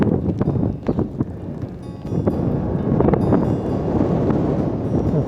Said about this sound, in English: I feel the wind just cutting through me.